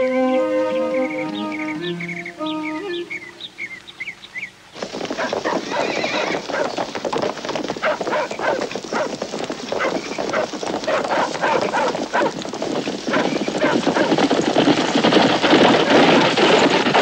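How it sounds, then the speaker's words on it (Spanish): Horse hooves clip-clop in a steady rhythm across the ground, loud and continuous, after a brief stretch of music at the start; a horse neighs at one point. "Estos caballos son para ti. 3 pintos, 2 bayos y un magnífico ruano con la marca del ejército."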